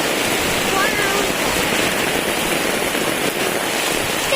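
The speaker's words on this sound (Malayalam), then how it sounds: "കണ്ടോ, അവിടെയൊക്കെ എന്തോരം മഴ." Heavy rain pours down outdoors, a dense, loud, continuous hiss and patter with no pauses.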